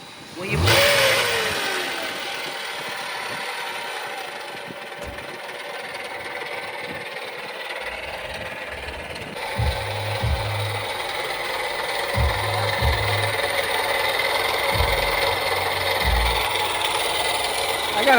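Car engine running in a repair shop with a faulty, noisy idler pulley, a steady mechanical drone with rattling and rhythmic low thumps, fairly close, with voices talking over it.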